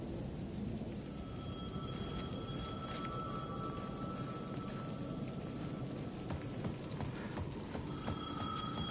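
Payphone on the edge of a plaza in Alan Wake 2 rings in repeated electronic bursts through a steady backdrop of rain and distant rumble, the ringing faint and intermittent over the storm.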